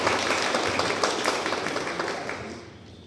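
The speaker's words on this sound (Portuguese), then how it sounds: "Palmas para eles." Audience applause: a steady, dense wash of many hands clapping together that gradually thins and fades out over about three seconds.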